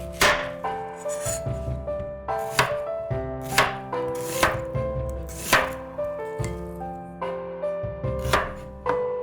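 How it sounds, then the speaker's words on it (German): A knife chops an onion into thin strips on a cutting board, a steady series of sharp, close knocks in an even rhythm with a tonal hum of kitchen background underneath. "Eine Zwiebel in dünne Streifen schneiden."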